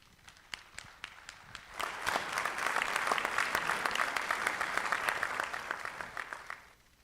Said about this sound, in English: Let's take a minute and thank them with a round of applause.